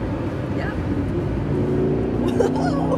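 A Lamborghini Gallardo engine pulls hard from inside the car, a steady low growl rising in pitch as it accelerates, with people talking over it.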